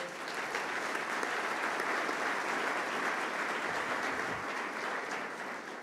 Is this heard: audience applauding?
yes